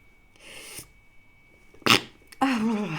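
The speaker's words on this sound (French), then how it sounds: "je vais éternuer." A person sneezes once, a sharp, close burst after a faint intake of breath, and speech follows right after.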